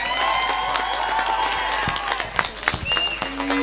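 An audience at a cultural program performed by children with special needs gives strong applause, a continuous crowd-wide clapping with scattered shouts and whistles over a low steady hum.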